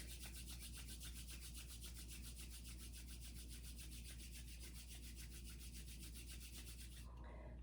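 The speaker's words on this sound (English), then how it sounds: "rub the palms of your hands a little bit," Palms rubbed together briskly to build heat in a restorative yoga session, a steady close rasping swish that continues evenly for several seconds before stopping abruptly near the end.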